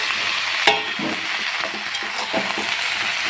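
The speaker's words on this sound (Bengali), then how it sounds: "সবজিগুলো আমার প্রায় ভাজা হয়ে এসছে ভালো মতন।" Vegetables and raw banana frying in a pan for sukto give a steady, close sizzle, with repeated scraping strokes from the stirring spoon.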